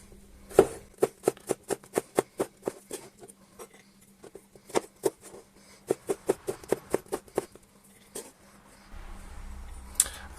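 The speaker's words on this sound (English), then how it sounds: "chopping a bit of garlic up." A knife chops garlic on a board in quick series of sharp, crisp taps, with short pauses between runs, close and clear in a quiet kitchen.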